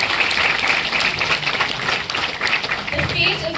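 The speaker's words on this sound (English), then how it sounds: "Guys and girls, let's have a huge round of applause for her." An audience at a campus tech event breaks into a broad, sustained round of applause and cheering, a dense wash of clapping that holds steady throughout.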